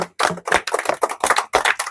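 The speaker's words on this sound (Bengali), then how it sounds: "হাততালি হবে জোরে করে হাততালি হবে" Loud, rapid hand clapping during a lively party game, a quick run of sharp claps close by with only brief gaps between them.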